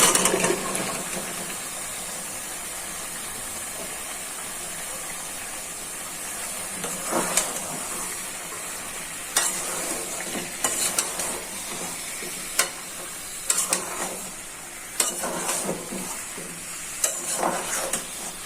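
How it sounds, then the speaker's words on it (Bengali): Ash gourd pieces going into a pan of sautéing masoor lentils: a continuous low sizzle and hiss, broken by several sharp bursts of stirring and clattering in the second half. "ডালটা ভালো করে কষানো হয়ে গেছে, এখানে জালি কুমড়াটা দিয়ে দিচ্ছি"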